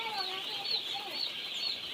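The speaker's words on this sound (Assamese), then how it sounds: "ইয়াত দুদিনৰ পোৱালি, এয়া পূৰা খাই আছে দানা।" Two-day-old chicks in a brooder eating feed, a dense steady chorus of high peeping chirps close by, continuous and busy throughout with no talk.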